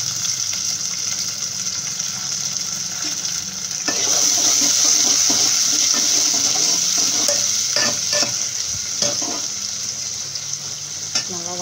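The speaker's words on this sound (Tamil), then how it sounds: "வெங்காயம் நல்லா வதங்கிருச்சு." Onions sautéing in a pan with green chillies and curry leaves after mustard seeds, urad dal and fenugreek, for a spicy okra tamarind curry; a steady loud sizzle and frying hiss continues throughout, with stirring scrapes becoming more frequent in the second half.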